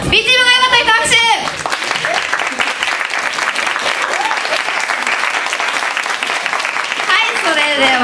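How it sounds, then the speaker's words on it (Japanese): A live crowd at a graduation-party dance battle applauds to vote for one team, the loud, dense clapping running steadily for several seconds, with brief voices or music at the start and end. "ジャッジ B チームが良かった人、拍手。"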